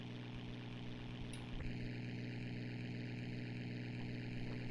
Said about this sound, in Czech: Pořád teď slyším motor vlevo.